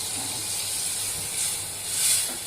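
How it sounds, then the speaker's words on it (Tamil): Water goes into a hot pan of cooking crushed tomatoes and sets off a continuous steamy hiss and sizzle, close and even, swelling slightly near the end. "இதில் லைட்டாக கொஞ்சம் தண்ணி ஊற்றிக்கோங்க"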